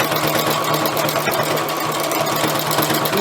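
A sewing machine runs steadily through free machine stitching, its needle hammering in a fast, even rhythm close up and loud over a constant motor whir for a few seconds.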